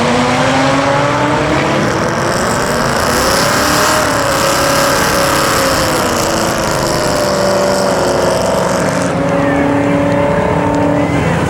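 A single-turbo LS-powered street car at a Street Car Takeover drag event in Denver makes a fast, loud pass, its engine roaring and rising in pitch the whole way before cutting off sharply near the end.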